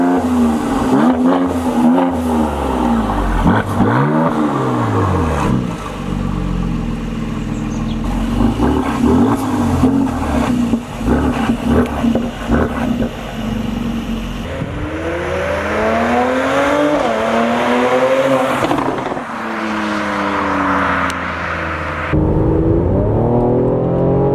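Mercedes-AMG C43 engine revved hard and bouncing off the rev limiter, loud, close and continuous, with repeated rising and falling pitch sweeps and no talk over it.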